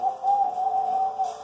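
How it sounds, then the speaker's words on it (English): A steady, hollow hoot at night in a spooky woodland, one sustained soft tone held for over a second at moderate volume with faint airy background and no talk. ""An owl," said Monty."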